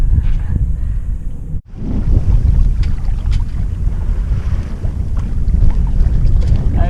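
A yellow sailboat sailing solo across the English Channel in a moderate breeze, with steady broadband wind rush and water swish over the hull, a brief dropout partway, then continuous close, loud wind and sea noise with no talk.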